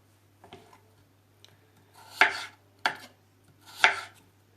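A knife chops potatoes into half-moon slices on a cutting board: a few light taps, then three sharper, louder chops spaced about a second apart.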